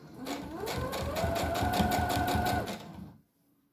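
A sewing machine runs steadily, stitching bias binding along the edge of fabric for a brush-roll holder, a continuous close whirring hum with rapid stitch pulses that stops abruptly near the end.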